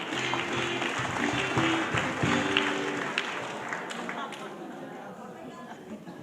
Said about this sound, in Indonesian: Kita beri tepuk tangan untuk mereka dulu.